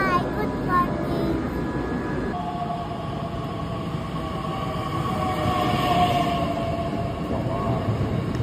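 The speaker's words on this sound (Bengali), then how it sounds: "আমাদের ট্রেন একদম সময়ে চলে এসেছিল।" A train in Germany on a trip to Leipzig gives a loud, continuous rumbling roar with a faint tonal whine over it, steady for the whole stretch.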